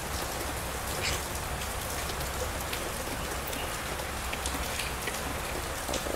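Steady rain pours down in a dense, even hiss of drops striking surfaces nearby, continuous and fairly loud with no voices.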